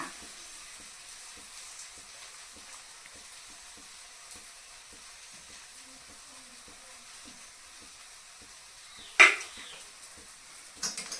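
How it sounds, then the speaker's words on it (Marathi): Khichdi rice toasts in a hot pan after salt goes in, giving a faint, low sizzle with soft stirring taps and one sharp clatter of a utensil near the end. "आता परत गरम करायचं मीठ टाकल्यानंतर परत हलवायची"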